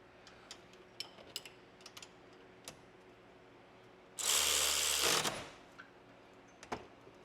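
A ratchet spins a rear wheel bearing nut on a 1997-2008 Corvette with a quick loud whirring burst of about a second, surrounded by scattered faint clicks and taps in a quiet shop.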